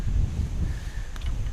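Wind buffets the microphone in low, rumbling gusts, steady and close, with faint rustling in the background, outdoors at an overgrown spillway while fishing.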